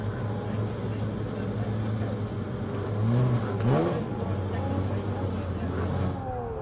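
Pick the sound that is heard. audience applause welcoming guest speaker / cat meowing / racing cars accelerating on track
racing cars accelerating on track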